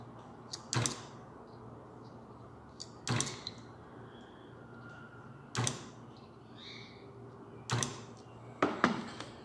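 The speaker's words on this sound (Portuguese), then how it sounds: "Soldado, agora eu vou soldar o restante." Spot welder joining nickel strip to e-bike battery cells, giving five short sharp snapping bursts spaced about two seconds apart over a low steady hum, close by with no talk.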